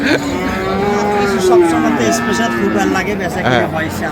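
Cattle moo at the Ambari livestock market in Dinajpur, where Sahiwal bulls are sold: a loud, drawn-out bellow rises and falls across the clip, with voices talking underneath and market bustle around it.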